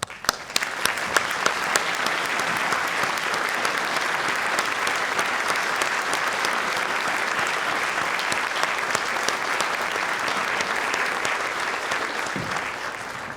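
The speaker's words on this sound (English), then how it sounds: "ask them to stand for applause" Long, steady applause at a university faculty and staff convocation welcoming new employees and faculty, many hands clapping in a dense, even roar with a few sharper claps up front.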